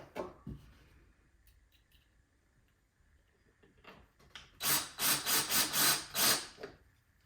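Phillips head screws are driven into a plastic housing to mount a DryTAG on a Phoenix Focus II dehumidifier, heard as a late run of about five loud, close, rasping bursts after quiet handling noise.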